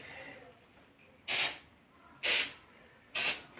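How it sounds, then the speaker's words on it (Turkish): Spray adhesive hissing from a can while carpet tiles are glued down: three short, sharp bursts about a second apart, each close and fairly loud, over a faint room hiss. "bu kısımda diğerlere sprey istiyoruz. Hemen yapışması için."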